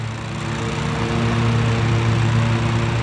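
A lawn mower cuts grass at a 3.5-inch height, its engine a steady, fairly loud drone with a constant hum, close by and alone.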